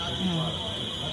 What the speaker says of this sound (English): I'm gonna find out whose that alarm that is and just smack